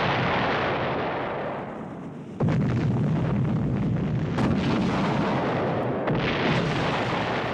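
China's first atomic bomb test explosion, a deep, sustained roaring rumble that swells suddenly midway and rolls on loudly with crackling bursts, heard alone without voices.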